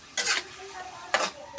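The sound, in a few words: stirring pork ampalaya frying in a pan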